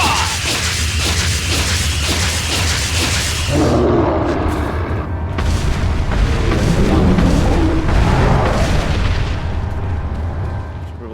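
Resident Evil 4 (2005) gameplay with debris crashing down and explosions: dense, continuous booming rumble with whooshing bursts, loud throughout with no speech.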